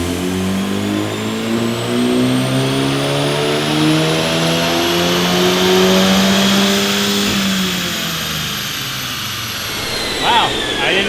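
A car engine revs hard on a dyno during an intake power test, its harmonics sweeping steadily upward through the gears before dropping off as the run winds down, loud and sustained with faint talk underneath.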